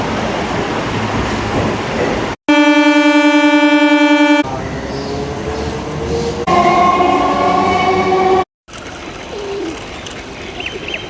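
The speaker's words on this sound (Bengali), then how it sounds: "এখনো ট্রেন ছাড়েনি, সিগন্যাল হয়ে গেছে ট্রেন ছাড়তে" A train sits at Santragachi station with rumbling engine noise, interrupted by a loud steady horn-like tone and shifting whines; birds call faintly.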